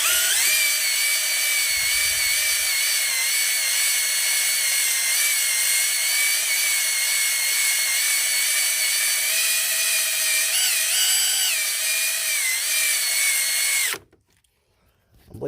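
A continuous high-pitched power-tool whine of sanding on scored pistons and cylinders in a Ford van engine damaged by a broken rod, running steadily and close for about fourteen seconds before cutting off abruptly.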